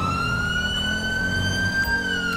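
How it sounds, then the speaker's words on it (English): A police siren on an undercover Ford F-350 truck in the video game GTA 5 wails loudly and steadily, a sustained high tone that sweeps upward slightly, heard alone with engine rumble beneath. "I'm really loving the new siren, guys."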